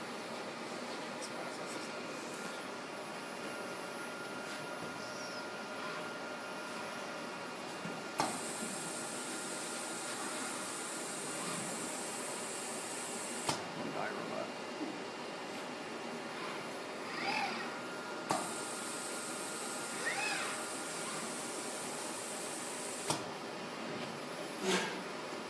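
A robotic vacuum gripper picks up tangram pieces, its steady airy suction hiss switching on and off in distinct steps several times over a constant mechanical hum.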